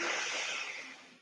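One brief, airy breath during a short core workout, a soft hiss that fades out over about a second, close to the microphone and not under talk.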